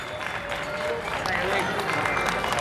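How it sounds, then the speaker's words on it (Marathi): Crowd applause for a schoolgirl prize winner at a public Shiv Jayanti celebration, a steady wash of clapping and crowd noise running throughout, fairly distant, with voices underneath. "टाळ्या होऊन जाऊ द्या या विद्यार्थिनीसाठी"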